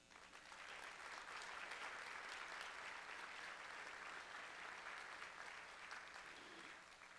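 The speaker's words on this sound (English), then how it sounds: "Can we give them all a round of applause?" A conference audience applauds, the clapping steady and dense, even in level for about seven seconds, a large crowd heard at moderate distance without voices.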